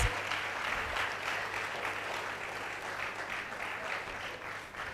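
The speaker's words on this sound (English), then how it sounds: "Let's give them an applause." Sustained applause from an audience at a nursing induction ceremony for the graduating class of 2024, steady and dense clapping filling the room for the full stretch, with a faint voice underneath.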